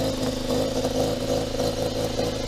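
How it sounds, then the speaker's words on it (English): A steady car engine idle hums on its own after adjustment, with a constant, even drone and slight rhythmic pulsing, close and fairly loud. "That's a much better idle."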